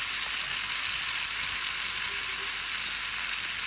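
Vegetables frying in butter over a low flame, giving a steady, even sizzle that holds at a constant level throughout with no voices.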